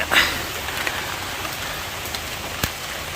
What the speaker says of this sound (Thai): ฝนครับ